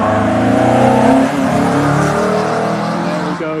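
A modified Peugeot 205 GTI with a GTI-6 engine revs hard and loud close by, holding a sustained raspy engine note that shifts in pitch as the car accelerates and drives past.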